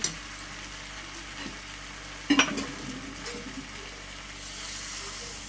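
Water hits a hot pan of fried pumpkin and snails (googli), bursting into a sudden loud sizzle and hiss that then settles into a steady, quieter bubbling simmer.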